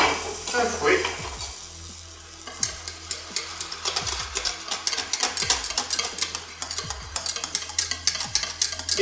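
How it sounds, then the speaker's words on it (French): A metal whisk stirs cream into hot caramel in a pan, tapping and scraping quickly in an uneven rhythm against a steady sizzle, fairly close and with no one talking. "Vous prenez un fouet"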